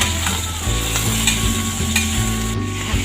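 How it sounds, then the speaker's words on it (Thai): Pork belly stir-fried in a pan for a braised pork dish crackles with a loud, steady sizzle, broken by repeated scraping strokes of stirring. It is close-up and has no speech. "หมูสามชั้นลงไปเลยแม่ขออนุญาตใช้มือเลย ผัดจนเข้ากันค่ะ"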